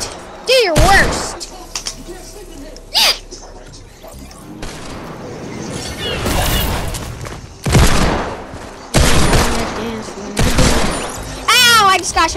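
Gunfire and shattering impacts in the video game Fortnite, with sharp shots and bursts scattered through the scene under excited voices talking and shouting.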